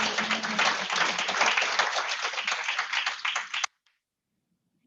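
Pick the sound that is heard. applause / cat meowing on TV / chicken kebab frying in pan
applause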